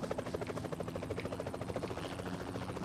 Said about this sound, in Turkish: Aa, helikopter, helikopter geliyor.